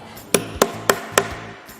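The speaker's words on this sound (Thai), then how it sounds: "เราต้องเจาะรูตรงกลางไว้ก่อน" A hole is punched in the centre of fabric, heard as four evenly spaced sharp hammer-like knocks, close and loud, with a faint fifth tap at the end.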